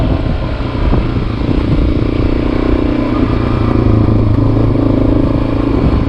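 A Yamaha XT350 motorcycle idling steadily after carburetor work, a loud, close, even single-cylinder rumble with a slight mechanical clatter, no voices over it.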